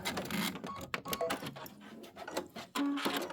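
A sewing machine runs in short bursts while quilting Kimberbell Sippin' on Sunshine pinwheel blocks, its needle chattering quickly as it stops and restarts to lock the stitch, close and moderately loud.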